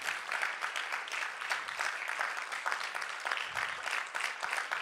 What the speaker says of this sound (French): il y avait moins d'applaudissements. Hein, là, c'est pas mal